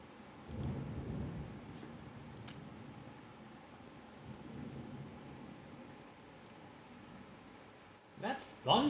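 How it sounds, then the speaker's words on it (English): Low rolling thunder in The Dark Eye, a Windows 3.x adventure game, a long soft rumble near the start that fades under steady rain-like ambience, with a brief voice near the end. "That's thunder."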